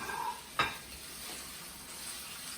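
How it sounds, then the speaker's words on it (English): Diced tofu browning in toasted sesame oil in a pan, a soft, quiet sizzle with one sharp utensil clink early on, no talking. "this we're going to brown for about 2 minutes"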